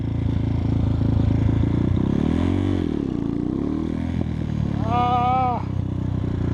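A 2021 X-Pro Titan 250cc dirt bike engine drones steadily and close throughout, rising and falling in pitch as the throttle is worked, with a brief rev swell near the end.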